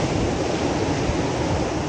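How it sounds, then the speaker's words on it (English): Ocean waves break on the beach at Hikkaduwa, Sri Lanka, as a steady, loud, rushing wash of surf noise with no pauses and no voices. "these waves breaking at the beach."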